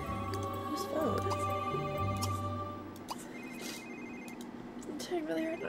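Telephone ringing in The Sims 3 video game, a repeating electronic ring tone heard clearly over game music and ambient effects, with a voice speaking briefly.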